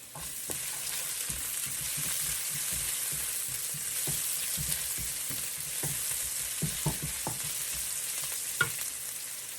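White onions frying in a hot pan, a steady broadband sizzle with scattered pops and scrapes of stirring throughout, close and alone without talk.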